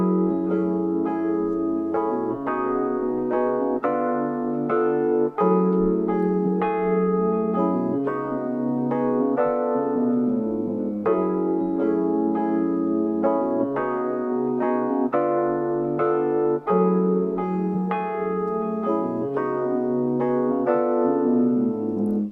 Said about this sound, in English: So let's start with the Rhodes.